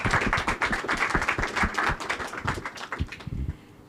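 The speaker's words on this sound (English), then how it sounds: "let's have a round of applause for Dennis" A summit audience gives a round of applause for a speaker, many hands clapping steadily before the sound thins out and fades at the end.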